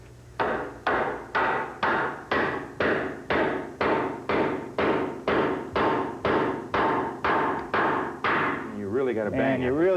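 Hardened steel 2.5-inch masonry nails are driven by hand with a hammer: about sixteen loud, evenly spaced ringing blows in a steady rhythm, close by, followed by a brief voice.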